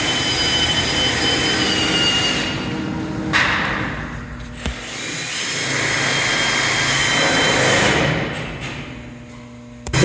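A VPX Vapo pro cutting machine jogs its cutting head, giving a loud, continuous whirring motor drone that swells and dips, with a couple of thumps.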